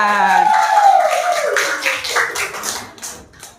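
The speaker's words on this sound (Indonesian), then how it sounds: "Tepuk tangan." Classroom of students clapping hands together in a burst of taps following a chant, with a voice gliding over the start and the clapping thinning out toward the end.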